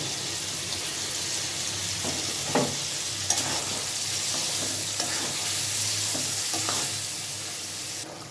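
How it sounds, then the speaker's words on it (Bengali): Mutton pieces fry and get stirred in a pan of cooked-down spices, giving a steady sizzle with occasional scraping and clinking of a spoon, close and continuous, no voices. "এই পর্যায়ে আমি খাসির মাংস দিয়ে দিচ্ছি"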